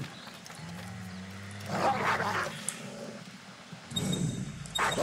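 A dog barks and yelps in Assassin's Creed Rogue, a few sharp barks over a steady low game hum, with a second burst near the end.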